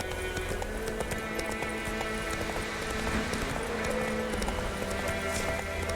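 A horse gallops in The Witcher 3, its hoofbeats a steady rapid clip-clop over game ambience and music, continuous and close.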